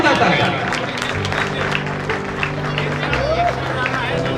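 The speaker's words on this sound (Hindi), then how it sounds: "जोरदार तालियां हो जाएगी, जोरदार तालियां।" Audience clapping at a retirement function for an Indian Railways officer, a dense, steady burst of applause throughout, mixed with voices and a sustained tonal background.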